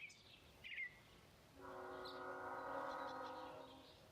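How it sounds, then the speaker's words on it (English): A train moves along tracks close by, a steady droning rumble with strong tonal bands that rises partway in and holds, fairly faint, with a few bird calls before it and no talk. "there is a train really close by. Train tracks."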